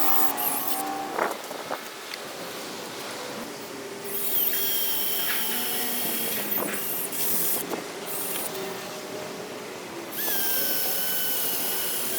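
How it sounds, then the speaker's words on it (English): A power drill whirs in repeated bursts outdoors, drilling holes in boards, the motor whine rising and settling between runs, with a hissing background. "I finished drilling out the holes on the boards"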